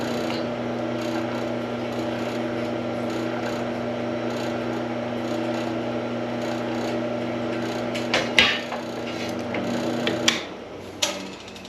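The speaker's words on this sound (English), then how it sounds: "I can throw on my tapping oil and drill all the way through" A drill bores through steel at a slow 220 RPM with tapping oil, giving a steady mechanical whir with grinding tones, followed near the end by several sharp clicks and scraping bursts.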